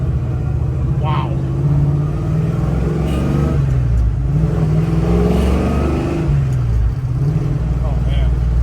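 A 1967 Chevrolet Chevelle engine revs and roars under excited talking, rising and falling in pitch as the throttle is rolled on and off.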